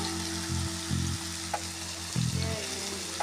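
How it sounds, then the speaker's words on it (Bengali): Marinated paneer sticks sautéing in a pan sizzle steadily and loudly for the whole stretch, with low rhythmic hum-like pulses and a few light stirring clicks. "তো এই পনির স্টিকগুলো আমি হালকা সঁতে করে নিচ্ছি, বেশি ফ্রাই করব না"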